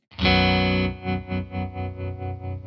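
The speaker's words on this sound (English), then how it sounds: "Now I'll create that tremolo sound manually with a volume knob." A sustained electric guitar chord rings out, then its volume swells and dips in a steady tremolo made by hand with the volume knob, roughly four to five throbs over a couple of seconds.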